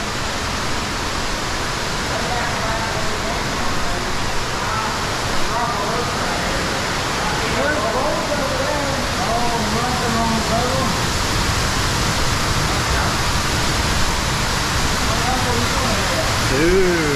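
A waterfall roars inside a massive cave, a loud, constant, enveloping rush that fills the whole stretch, with faint voices buried beneath it.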